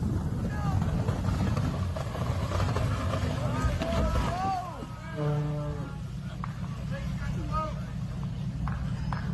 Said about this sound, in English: a runaway boat turned an ordinary workday into a near tragedy